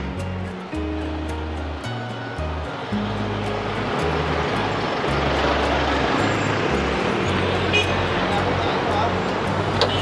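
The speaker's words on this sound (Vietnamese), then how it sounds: "Đường Nam Kỳ Khởi Nghĩa thì rất là đông xe cộ" Heavy traffic on Nam Kỳ Khởi Nghĩa street in Saigon makes a dense, continuous roar of engines and tyres that swells slightly, with a low background melody running underneath.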